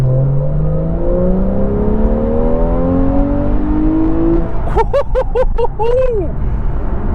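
A Porsche 911 991 GTS pulls hard in second gear from about 20 mph on an open road, its engine note climbing steadily for several seconds before easing off, then someone speaks over the lower engine hum.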